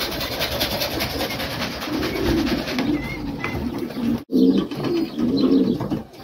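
Racing pigeons coo repeatedly in low, rolling bursts close by, arriving back at a loft after a 135 km training flight, with faint background noise and a brief gap midway.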